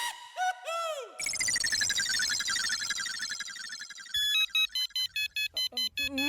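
A mobile phone ringtone for an incoming call plays a jaunty electronic melody with sweeping tones, then switches to a series of short repeated beeping bursts in a regular rhythm.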